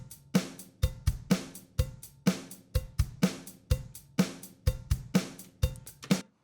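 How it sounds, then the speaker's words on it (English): A studio drum track with an added computer cowbell sample: punchy kick and snare hits in a driving groove, with a bright metallic cowbell tone clanking along on the beat, close and without voices. "and so the drums and the cowbell together"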